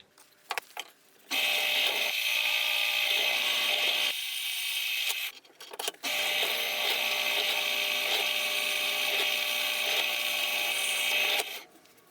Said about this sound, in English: Then I can simply drill holes in the other scale, going through the one that I already made.